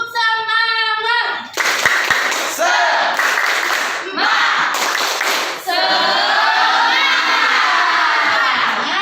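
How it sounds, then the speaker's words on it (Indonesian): Children in an Indonesian classroom shout and clap together in a loud, rhythmic group spirit clap led by a teacher, with bursts of chanting and sharp hand claps following a sung or called-out opening. "Tepuk semangat."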